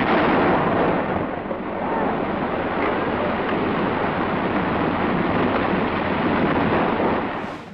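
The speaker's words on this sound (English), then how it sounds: "they plant tons of dynamite to blast a bed for the pipe beneath the river's bottom" A massive dynamite blast in a riverbed roars and rumbles on for several seconds, a sustained wash of heavy noise that slowly fades away.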